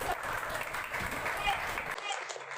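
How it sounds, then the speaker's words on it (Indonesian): Applause from students in a tax administration class session, a steady wash of clapping over a couple of seconds that cuts off abruptly near the end. "Beri aplaus untuk Okot."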